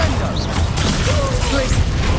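Incendio fire spells cast during a Hogwarts Legacy finale battle, a steady rush of magical whooshes and mechanical clatter under dense game effects, with a voice speaking over the din.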